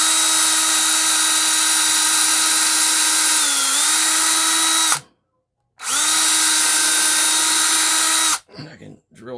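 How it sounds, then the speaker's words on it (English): Power drill whining steadily at low speed while boring into a sacrificial piece of wood, the tone dipping slightly under load, then a short pause before it spins up again and stops. "I'm drilling on low speed"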